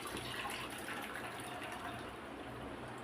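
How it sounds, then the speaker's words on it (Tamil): Vegetable soup is strained into a bowl, a steady, close liquid flow and trickle that runs evenly throughout with no talking. "இப்போ நம்ம அதை ஒரு பவுலில் வடிகட்டிக்கலாம்."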